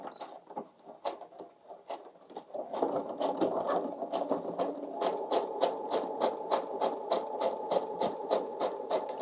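A sewing machine sewing a straight stitch on a pants pocket, starting with slow, uneven clicks, then settling into a faster, rhythmic run of needle beats, close and clear without voices.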